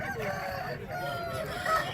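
A country rooster crows at an outdoor village chicken market in Nallapadu, its drawn-out call fairly close and clear over a low murmur of background market noise.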